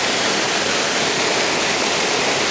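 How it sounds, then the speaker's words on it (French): A waterfall pours steadily in a loud, continuous broadband rush of crashing water, close and unbroken, with no voices. "Là, c'est actuellement dans une cascade. Ça fait du bordel,"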